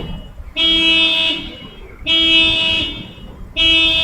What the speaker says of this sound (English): Hear that alarm?